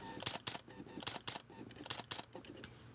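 A Canon R5 with a flash on its hot shoe fires off quick shutter clicks in close pairs, about three double bursts within a few seconds, near and crisp.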